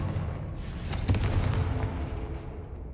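A Confringo fire spell blasts in Hogwarts Legacy, a loud booming explosion with a sharp crack near the middle and a rumbling tail that fades out, with no talking.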